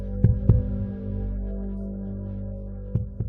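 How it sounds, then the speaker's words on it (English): A heartbeat sound effect for video editing: two pairs of deep, thumping double beats, one pair at the start and one near the end, over a steady low hum. "the heartbeat video effects"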